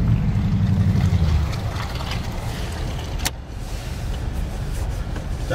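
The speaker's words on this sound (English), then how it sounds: "We'll get to hear the custom dual TRD Pro exhaust." A 2015 Toyota Tundra TRD Pro with a custom dual exhaust drives an off-road course, its engine a steady, deep, close rumble that swells briefly at the start before settling into a constant drone.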